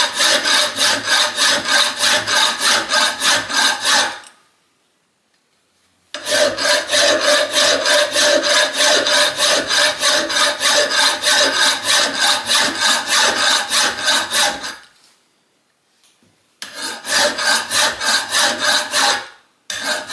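Steel lugs for steam locomotive 82045's boiler bands are hand filed: loud, close rasping strokes in a steady back-and-forth rhythm, broken by two short silent pauses between bursts.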